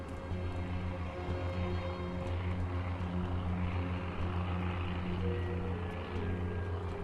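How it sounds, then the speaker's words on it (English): Propeller airdrop plane droning overhead in the survival game SurrounDead, a steady loud engine hum with a low rumbling throb that holds evenly throughout, with no talking. "I can hear the airdrop, so there's the plane."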